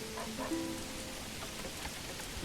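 Steady rain falls on a cloudy day in the medieval village-building game Manor Lords, an even dense patter close by with a few faint tonal game sounds over it and no voices.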